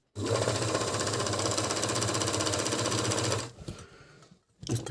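Agat DonLock 54D6 six-thread overlock machine sewing and trimming a seam, running as a loud, fast, steady mechanical whir for about three seconds before stopping, followed by faint handling sounds.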